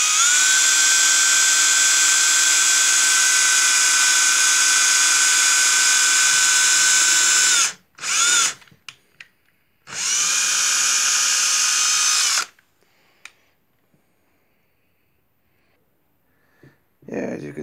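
A vintage DeWalt DW 990 power drill whines steadily for several seconds drilling a hole, stops, gives a short burst, then runs again for a few seconds before falling quiet.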